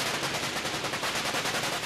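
Thrusters of an exo-atmospheric kill vehicle firing in rapid, even pulses during a test under normal gravity, making a dense, loud, continuous stutter of bursts with no pauses and no voices.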